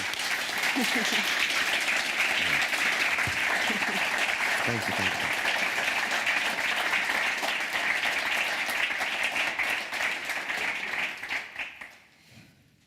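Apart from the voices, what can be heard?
applause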